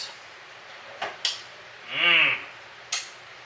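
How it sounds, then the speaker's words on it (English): An oven being opened to take out a raspberry clafoutis in a home kitchen: a few sharp clicks and clunks, a brief whining squeak or scrape, then another knock, all close and fairly quiet. "we're going to take it out of the oven"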